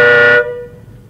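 A second car horn sounded in a comedy radio play: one short, loud, brassy blast lasting under half a second, then cut off and fading away, with no talk.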